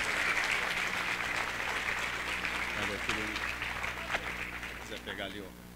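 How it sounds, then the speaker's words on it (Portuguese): Sustained audience applause fills a hall at the opening ceremony of an international congress, steady and dense throughout before tapering slightly at the end, with a voice briefly audible over it. "Uma grande salva de palmas."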